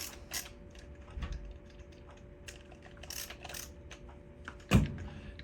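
Screws being tightened on an electrical cord cap (plug) during a cord repair: quiet mechanical clicks and ratcheting creaks in a few short bursts, with one sharper knock near the end, close and soft.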